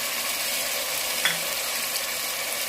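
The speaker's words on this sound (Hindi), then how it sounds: "मसाला हमने अच्छे से भून लिया" Red chilli, curry powder, turmeric powder and salt being fried in a pan for a taro root masala: an even, close sizzling hiss with one faint clink partway through.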